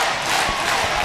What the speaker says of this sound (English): And she's getting the crowd behind her now as Thunder Rosa.